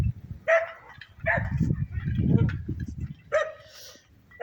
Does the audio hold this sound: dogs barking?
yes